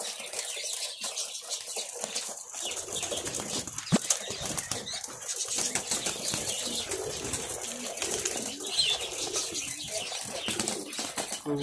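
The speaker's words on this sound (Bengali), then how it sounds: "4-5 জাতের কবুতর এখানে আছে" Pigeons in a loft holding about thirty pairs of four or five breeds, with busy wing flapping and soft cooing, close and continuous throughout, no talking.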